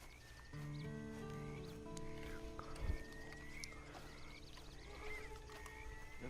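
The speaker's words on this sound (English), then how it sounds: "Then you better get on this horse." Horse hooves clip-clop in Red Dead Redemption 2 over a soft low hum, with a brief thump partway through and light movement sounds around them.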